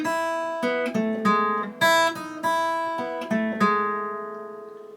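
Clean guitar picking the intro figure of a song, a repeating six-note phrase in 6/8 with ringing overlapping notes, played alone and clearly with no voice.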